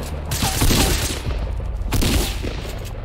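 Rapid bursts of gunfire from the video game Fortnite rattle in two quick volleys, fairly loud and close, with no talk over them.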